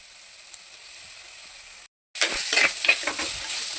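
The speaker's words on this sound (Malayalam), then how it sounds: "അപ്പോൾ നമുക്കിതിലേക്ക് ഇഞ്ചിയും വെളുത്തുള്ളിയും പച്ചമുളക് കൂടി ഇട്ട് കൊടുക്കാം കേട്ടോ." Ginger, garlic and green chili hit hot oil in a pan for prawn roast, a faint simmer, a brief silence, then a loud bright sizzle with stirring scrapes, close and wordless.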